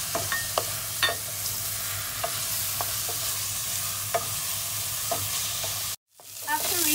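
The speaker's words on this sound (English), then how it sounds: "Now you're adding your onion and garlic. And you saute until golden brown." Onion and garlic sautéing in a hot pan for a red lentil soup, a constant bright sizzle with repeated spatula scrapes and taps, close up; the sizzle cuts out abruptly near the end, then briefly resumes.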